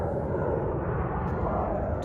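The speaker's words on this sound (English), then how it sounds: "we got a plane coming in" An airplane coming in to land at Logan Airport near Winthrop and East Boston, a steady broad engine roar heard from a distance over open water, constant and unbroken.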